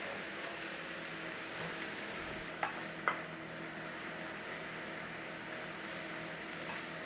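An onion and garlic mix fries gently over a low flame in a pan for patatas bravas, a soft steady sizzle with a couple of brief utensil clinks partway through.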